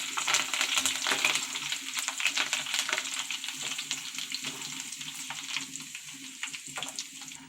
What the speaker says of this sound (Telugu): ఈ పచ్చిమిరపకాయలు నాటెట్టుకునండి వేపుకుంటే ఈ కరివేపాకు వేసుకుని వేపుకుంటే